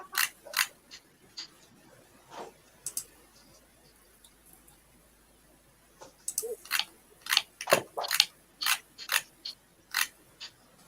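Someone crunches a peppermint candy, giving sharp, brittle cracks close to the mic, sparse at first and then a quick rhythmic run of crunches in a quiet room.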